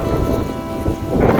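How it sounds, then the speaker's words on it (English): Strong gusty wind buffets the open outdoors at a drain tile installation site, a loud broadband rushing roar that swells and surges continuously, with no talking. "Man, it's windy."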